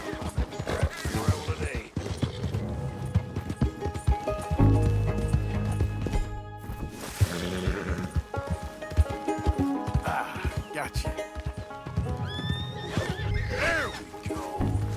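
Horse in Red Dead Redemption II neighing and whinnying over clip-clop hooves on a galloping run, with game music and ambience throughout and a loud low rumble in the middle.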